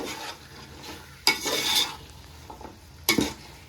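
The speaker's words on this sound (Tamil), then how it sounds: "எல்லாத்தையும் சேர்த்து நல்லா கலந்து விட்டுக்கலாம்." A spoon scrapes a couple of times through a pot of vegetable biryani that has just started to steam. The strokes are short and close, separated by quiet gaps.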